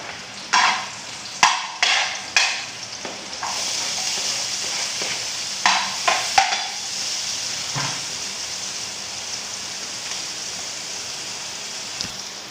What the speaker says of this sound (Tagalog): Ilagay ko na itong bawang sibuyas